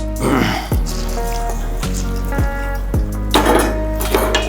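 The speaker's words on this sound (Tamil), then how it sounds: "இப்போ அரிசி வந்து அரை மணி நேரம் அரிசி பருப்பு ஊற வச்சுருக்கிறேன், அதை எடுத்து போடுங்க" Soaked rice and lentils drop into a metal cooking pot in a few distinct splashes and clatters, with wet trickling and light sizzling between the pours.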